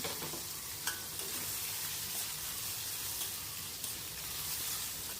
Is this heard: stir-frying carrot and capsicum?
yes